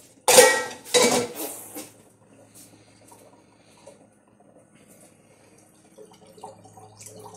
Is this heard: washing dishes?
yes